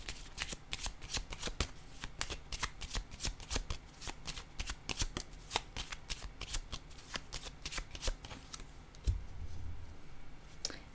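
Tarot cards handled and shuffled close up, a rapid run of crisp flicking riffles with a brief thump near the end, no talk.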